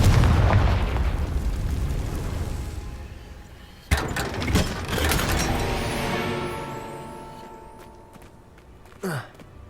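Confringo fire spell blasts in the Hogwarts Legacy game: a heavy rumbling explosion fading out, then a sharp second blast with debris crackle and a rising whoosh, followed by a smaller impact near the end.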